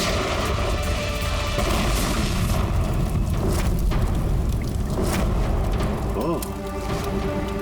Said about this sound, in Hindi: जैसे बैग से ये नोट बाहर गिरे, बॉम्ब ट्रिगर हो गया